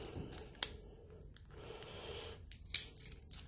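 Cutters snip the gold-plated corner off a BGA chip on a circuit board, giving faint close clicks and crunches, with a sharper snap near the start and another toward the end, and no talk.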